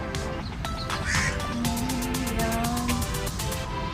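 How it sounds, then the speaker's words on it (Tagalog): Birds call outdoors near a hotel, a few short harsh quacking or cawing calls rising over steady background noise, with a quick rapid series of clicks or chirps later in the moment. "ang ganda ng mga ibon, oh"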